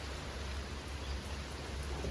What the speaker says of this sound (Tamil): திடீர் மழை.